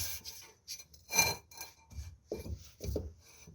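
A dry scraping rub sounds in uneven bursts, close and quiet, as rear brake shoes drag against the drum of a VAZ-2109 while the wheel turns.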